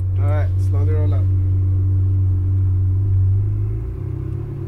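A Ferrari 458 Italia rumbles at low speed, rolling out slowly in first gear with a steady deep engine drone throughout, a person briefly speaking near the start.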